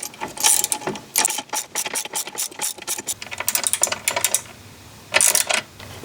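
Ratchet tightening a bolt on a Kimpex plow mount fitted to a Polaris Sportsman ATV, a close series of quick metallic clicks in uneven bursts with brief pauses.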